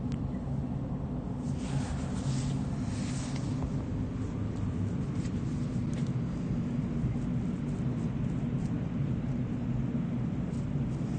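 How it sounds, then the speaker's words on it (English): Steady rain falls throughout with a constant wash of noise and a low rumble underneath, unchanging for the whole stretch. "Yeah, it's still raining."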